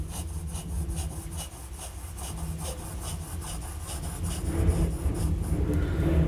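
A Jinhao 80 fountain pen scratches steadily across paper in a continuous close rasp with faint rhythmic strokes, growing slightly louder toward the end.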